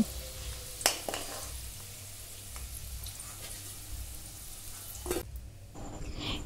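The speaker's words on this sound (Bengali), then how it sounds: "এখন গ্যাসের ফ্লেমটা হাইতে রেখে আলুগুলো হালকা করে ভেজে তুলে রাখবো" Potatoes, salted and dusted with turmeric, fry in oil over a high gas flame for a jackfruit curry, with a low continuous sizzle and a few sharp utensil clacks near the start and end, nearby and without speech.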